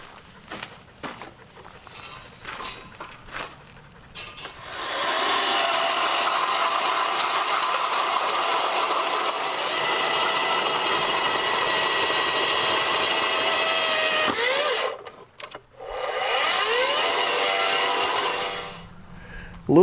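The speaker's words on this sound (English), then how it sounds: "the 40-volt electric auger that I used to drill the hole in the ground" Ryobi 40-volt electric auger boring a hole into the ground for a string-light post, a steady loud motor drone with whining tones that runs for about ten seconds, stops briefly, then starts again.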